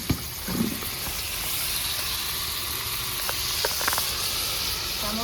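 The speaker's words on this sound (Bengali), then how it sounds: "একটা ছেড়ে দেখছি তেলটা গরম হয়েছে কিনা।" Ripe banana batter sizzles softly in hot sunflower oil, a steady fine hiss with a few faint crackles, fairly quiet and continuous throughout.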